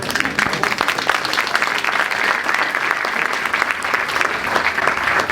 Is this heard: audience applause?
yes